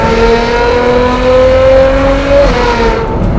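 A Ferrari 812 GTS exhaust revving, with a loud close engine note whose tonal pitch climbs steadily and then drops off sharply, alone with no talk.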